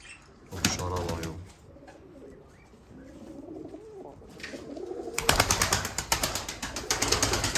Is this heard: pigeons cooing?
yes